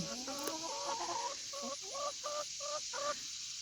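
Chickens cluck and murmur in a backyard farm coop in the morning, a run of short repeated calls at moderate distance against a steady background hiss.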